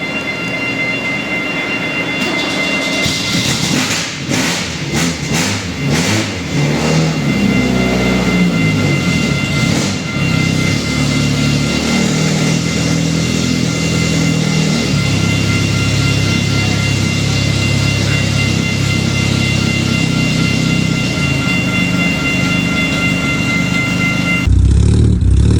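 An AC Cobra replica powered by a Ford 2.0 Pinto engine cranks and fires up cold in chilly winter air, then runs rough and loud with uneven revving before cutting out near the end.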